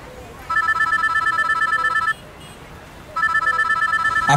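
A telephone rings close and loud in two long trilling bursts separated by a short pause, with no voices over it.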